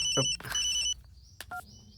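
A telephone rings in a Hindi-dubbed action film scene, with bright repeating electronic ring tones in short bursts, then a few brief beeps, close and clear with no speech.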